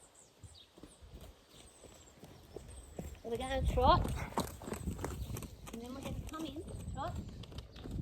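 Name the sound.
horse trotting hooves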